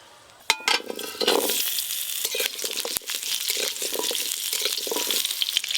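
Panch phoron five-spice seeds hitting hot mustard oil in a pan, a sudden burst of crackling and spluttering that settles into a steady close sizzle, with no voices.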